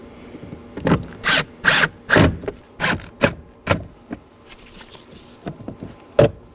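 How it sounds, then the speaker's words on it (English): Phillips head screws being driven to mount the glove box of a 2013–2019 Nissan Sentra, a run of short close rasping turns and squeaks in uneven bursts with quiet gaps between them, no voices. "We're going to locate the mounting holes and install our 3 Phillips head screws."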